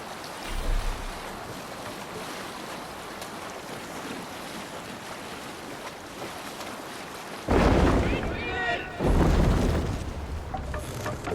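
A ship under sail in Assassin's Creed Valhalla ploughs through steady rushing waves and wind, a broad continuous wash that swells into louder surges of spray toward the end.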